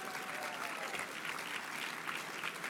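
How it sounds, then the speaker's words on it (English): At an awards dinner, a banquet audience gives a steady round of applause. Many hands clap in a dense, even roar that holds throughout at moderate distance, with no speech over it. "I want you to give him a good hand, a good round of applause"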